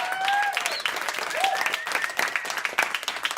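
Audience applause after a performance at a worship school band session, a steady wash of clapping with a few whoops or cheers rising over it, fairly close and sustained throughout.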